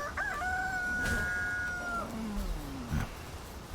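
A rooster crows in Palworld, a clear drawn-out cock-a-doodle-doo with rising and falling tones, up close over a steady game ambience, followed by a fainter low call near the end.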